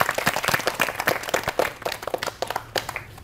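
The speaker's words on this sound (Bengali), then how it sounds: "আরেকটা করতালি" Children and adults at a dance-lesson gathering clap their hands in uneven bursts, a group of distinct close claps that rise and thin out across a few seconds, with no talking over them.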